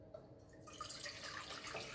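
Tap water pours into a cooking pot being filled to make Kraft mac and cheese, a steady close splashing hiss that grows fuller partway through, with no talking.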